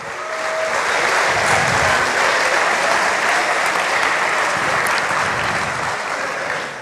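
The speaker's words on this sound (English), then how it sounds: "let's give them a nice round of applause and thank you" Dense, steady round of audience applause for sponsors at the 2018 Formula SAE Michigan awards ceremony, filling the room evenly for about seven seconds without talk.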